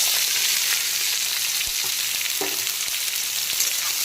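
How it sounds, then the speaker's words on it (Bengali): Chopped onion, green chilli and five-spice seeds fry in hot oil in a pan, giving a steady, close hiss and sizzle, with a few soft stirring knocks over the constant crackle. "তো এখন আমি দিয়ে দিচ্ছি পেঁয়াজ কুচি।"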